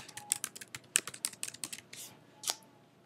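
Keys clatter on a computer keyboard in quick, uneven bursts of light clicks, close and fairly quiet, with a short pause and a final heavier key press.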